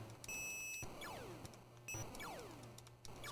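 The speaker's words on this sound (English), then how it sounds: "It's quite an annoying beep, that, isn't it?" A ColecoVision video game sounds a sharp, piercing beep tone, followed by descending swooping electronic effects that repeat several times in a steady cycle, moderately loud with no talking.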